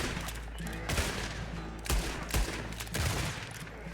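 Rapid volleys of gunfire in the Red Dead Redemption 2 video game, with several loud overlapping shot bursts over a dense, continuous game soundscape.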